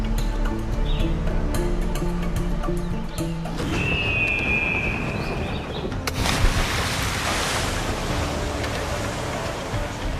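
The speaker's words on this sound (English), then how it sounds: "So now that we're back in the ocean" Ocean waves wash and surge continuously in Assassin's Creed, with rushing surf and wind filling the scene and a brief whistling tone partway through.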